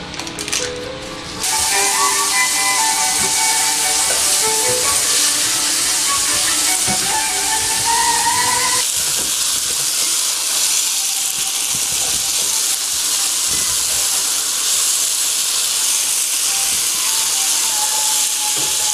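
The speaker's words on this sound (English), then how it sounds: "Melt the 2 tablespoons of butter in the skillet." Butter melting in a hot skillet gives a continuous loud hiss and crackle that kicks in after a quiet opening second and holds steadily to the end, with no talking.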